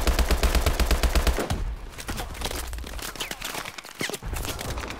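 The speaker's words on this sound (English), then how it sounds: "You wanna stop shooting at me?" Rapid automatic gunfire from the Call of Duty: Advanced Warfare campaign, a dense rattling burst for over a second that drops away, then scattered shots and combat noise follow, loud and close.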